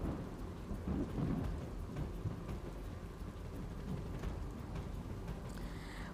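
Heavy monsoon rain pours steadily in Maharashtra's Palghar flood region while thunder rumbles through it, a dense, constant wash of water with low rolls rising and fading across the whole stretch.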